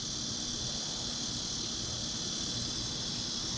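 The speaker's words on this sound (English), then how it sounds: "Sorry about the cicadas, it's that time of year here." Cicadas buzzing outdoors in a dense, unbroken high drone that stays loud and steady throughout, with no voices.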